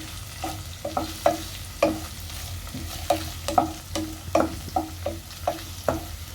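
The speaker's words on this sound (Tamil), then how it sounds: "போட்டு இப்போ இதெல்லாம் நல்லாவே வதக்கிக்கலாம்." Onions sautéing in a pan for egg rice, a low sizzle under a steady run of sharp spatula taps and scrapes against the pan, close and rhythmic, with no talking.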